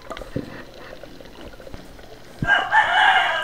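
A rooster crows loudly and close, a drawn-out call rising over the last second after scattered thumps and faint background noise.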